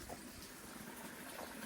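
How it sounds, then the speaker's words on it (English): Steady rushing water pours and gurgles continuously into a small stream beneath a stepping stone, a broad close wash of flow with no voices. "you can hear the sheer volume of the water"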